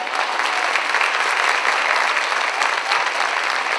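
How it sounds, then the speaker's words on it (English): An audience at an elementary school spring concert claps for fifth grade band students, with dense, steady applause filling the room for a few seconds without a break. "We should give these guys a round of applause just for making it down 2 flights of stairs and getting in their chair."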